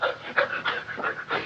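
A man breathes hard and pants in quick, ragged bursts, close and fairly loud, with no other sound around it.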